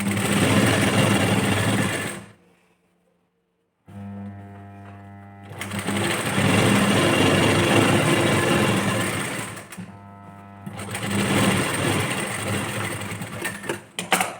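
Sewing machine runs steadily while top-stitching the lining of a blouse, loud and close, stopping briefly twice before starting again with continuous whirring stitches.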